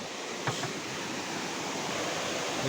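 A Konkan river flows right beside the listener, its water making a continuous, even wash of broadband noise with one small knock early on.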